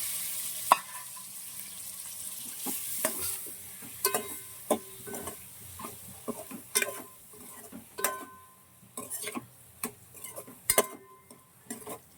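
Eggs frying for egg biryani in a pan on a stove, with a faint steady sizzle and scattered sharp ticks and scrapes as the eggs are stirred; no voices.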